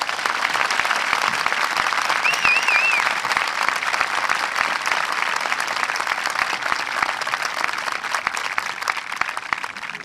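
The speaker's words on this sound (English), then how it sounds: "a huge round of applause to the 2024 Jockey Hollow Middle School" Loud, sustained applause fills a middle school recognition ceremony for the 2024 graduates, with dense clapping from a large audience running unbroken and fairly close throughout.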